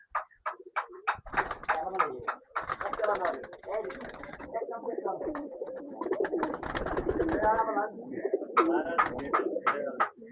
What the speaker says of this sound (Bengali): কবুতর পালতে হলে কবুতরের যত্ন করতে হবে, কবুতর যেন চকচক করে।